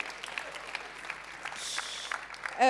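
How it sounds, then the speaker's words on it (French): Audience applause at a French stage event presenting eco-impact startups, steady moderate clapping through the room that continues to the end, with a brief sharper sound at the close. "Donc Marion de Télécope, que je vous laisse applaudir."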